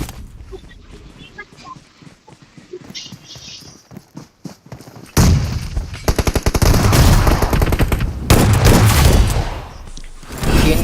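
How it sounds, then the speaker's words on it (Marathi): Rapid gunfire in a 3v3 multiplayer shooter video game, bursts of loud automatic shots that grow denser and louder in the second half, mixed with players talking. "तीन गोळ्या मारल्या त्याला."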